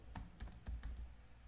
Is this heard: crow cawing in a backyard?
no